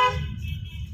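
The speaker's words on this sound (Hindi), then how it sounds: "हॉर्न दे करके" A car horn gives one short toot while driving during a driving lesson, then fades into a low engine rumble from inside the car.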